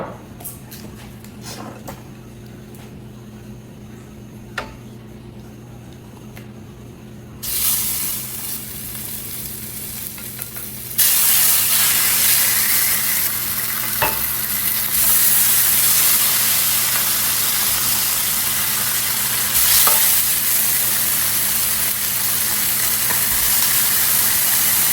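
Floured turkey necks frying in olive oil in an electric skillet: a quiet background jumps into loud, steady broadband sizzling around seven seconds, growing fuller after eleven seconds and holding continuously to the end, with no talking.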